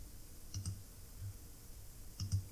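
A computer mouse clicks twice while QGIS mapping software is used, short faint clicks about a second and a half apart in a quiet room.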